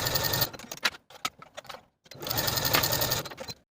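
Sewing machine stitching sleeve cuff seams on a knit sweater dress, two bursts of steady rapid needle rattle separated by a gap of short stop-start clicks, close and alone.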